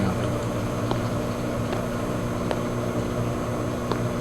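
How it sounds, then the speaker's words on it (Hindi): A microwave oven heating a slice of pizza gives off a steady, close mechanical hum with a faint rattle, broken by a few brief ticks, running continuously with no talking. "खतरनाक एकदम आवाज आते हुए इसके माइक्रोवेव से।"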